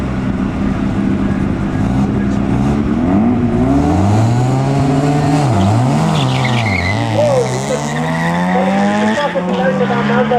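A Datsun and a Cobra launch side by side at a drag race at Tarlton Raceway, engines roaring loud and close, rising and falling through gear changes with a brief tire squeal, while a commentator talks over them.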